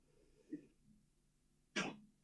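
A single short sneeze, near and fairly loud, bursts out near the end after a faint earlier breath or throat noise over quiet room background.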